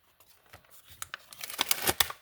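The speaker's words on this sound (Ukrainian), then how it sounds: "Е, так, наш пакетик. Його теж можна рвати." Close, quiet crinkling and tearing of a small plastic bag in short irregular bursts that grow busier and louder toward the end.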